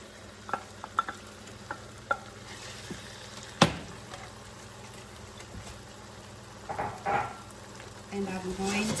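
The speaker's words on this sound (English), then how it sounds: "So now I'm going to go ahead and add our greens" Pumpkin leaves dropped into a pan and stirred for Kenyan mukimo, heard as a few sharp clicks and one loud clack, followed by soft rustling, scraping strokes and a light sizzle near the end.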